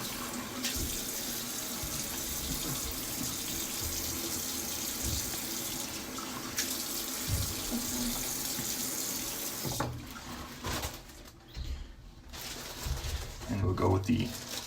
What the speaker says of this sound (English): let's get the face wet with some cold water